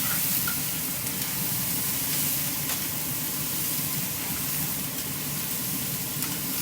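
Green beans sear in a hot pan for Szechuan string beans with shrimp, producing a continuous loud sizzle and crackle with faint stirring clicks, no talking.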